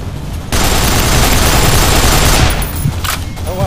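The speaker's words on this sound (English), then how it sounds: "Wait, are those guns shooting at me?" Turret gunfire in the video game Nuclear Dawn, a loud, sustained rattling fusillade of rapid shots that rises sharply, holds steady, then eases slightly toward the end.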